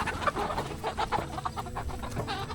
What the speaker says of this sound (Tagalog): ang dami ko na namang manok dito sa farm